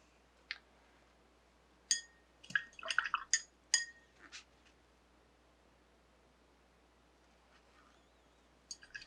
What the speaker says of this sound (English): just gonna wash my brush